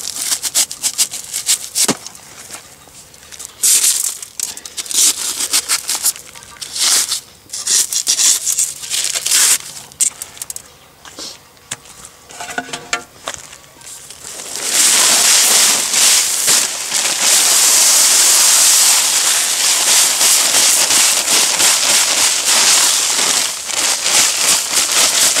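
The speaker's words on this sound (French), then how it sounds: "Donc là on a notre sac de béton. Donc je vais l'ouvrir." A paper bag of concrete mix is torn open with scattered crinkling and ripping noises. The dry powder is then poured out in a loud, continuous rushing hiss, all outdoors while building a concrete border.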